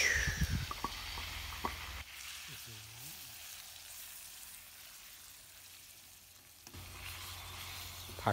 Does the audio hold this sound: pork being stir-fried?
yes